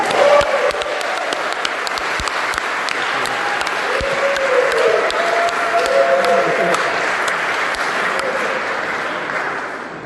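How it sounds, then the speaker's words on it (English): Sustained, loud applause fills an audience hall at an annual AA convention, dense clapping holding steady for ten seconds with a faint voice beneath. "Can we give a big applause for the convention committee?"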